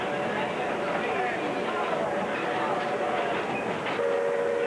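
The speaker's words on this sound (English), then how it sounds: "We have just one steam engine in operation, so we use it as a yard engine to pull the trains" Steam yard locomotive in Alaska hauling trains from ship docks to the railroad shops, a steady rumbling rail roar with clanking cars and a sustained whistle tone near the end, continuous and fairly close.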